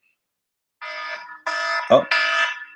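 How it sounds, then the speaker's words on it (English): An alarm going off in a room, repeated loud electronic beeping bursts in three pulses, with someone speaking over it. "that's my alarm."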